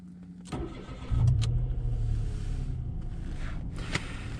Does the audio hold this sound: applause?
no